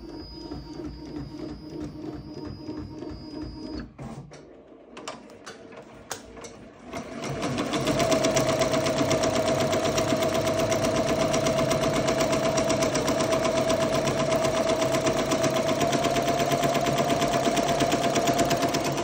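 An embroidery machine, a Ricoma MT 2001, hums quietly, pauses with a few clicks, then starts a fast, steady mechanical stitching rhythm that runs loud and constant to the end.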